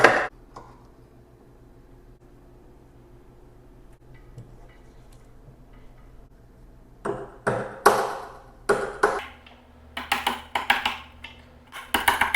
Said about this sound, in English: take a chisel and chisel this piece out right here